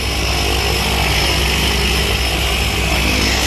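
Steady, loud propeller-plane engine drone inside the cabin, climbing toward 13,000 feet before a tandem skydive, with constant broadband roar and no pauses throughout.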